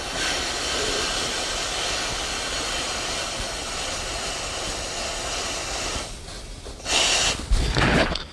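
A cold aerosol can held upside down sprays liquid, making a loud, steady, close hiss that runs for several seconds, then breaks off into a few shorter bursts.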